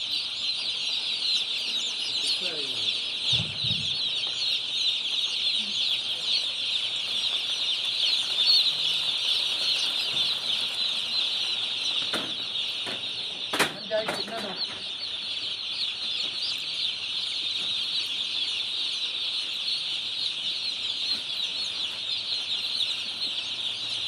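Chickens clucking and pecking at feed inside a covered poultry shed, a steady chorus of many birds with occasional wing flaps, continuous and moderately close.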